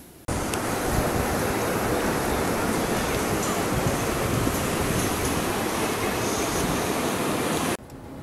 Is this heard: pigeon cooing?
no